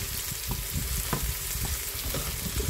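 Bitter gourd (ampalaya) sizzles steadily in a pan with sautéed garlic, onion and tomato, a continuous close frying hiss with occasional stirring scrapes and no talking.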